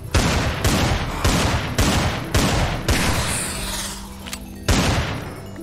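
Pistol gunfire in Minecraft, set during a zombie apocalypse survival in a prison: a rapid, regular string of loud, sharp shots about every half second, with a brief pause before a final shot.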